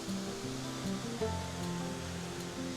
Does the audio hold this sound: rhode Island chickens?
no